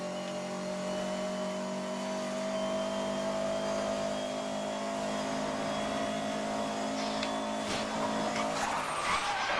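A car in Need for Speed Most Wanted, a Subaru STI or Mitsubishi Evo, holds a sustained high engine drone and then breaks into sharp tire squeals toward the end, loud and continuous.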